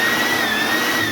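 A Makute 2-in-1 blower/vacuum runs in blower mode, giving a steady, loud rushing roar of air with a high motor whine held throughout, close up and alone.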